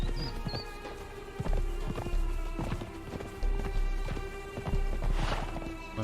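A horse walks in Conan Exiles with repeated hoof clip-clops in an uneven rhythm, close and fairly loud over a bed of ambient game sound, with a brief whinny-like tone near the start.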